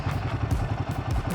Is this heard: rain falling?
no